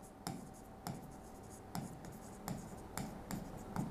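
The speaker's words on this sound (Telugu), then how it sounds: "సో ఇక్కడ రాస్తున్నానండి, నేను పైన రాస్తున్నాను" Chalk or marker strokes on a board during a Telugu-language lesson, a series of short scraping taps roughly every half second, fairly faint and close, with no speech over them.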